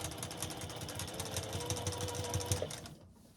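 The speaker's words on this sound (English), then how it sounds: "I'm just going to sew this all the way down, all the way around." A sewing machine runs steadily, stitching a seam all the way around a lined dress for a little girl, its needle making a fast even whir and chatter that is close and fairly quiet, then stops at the end.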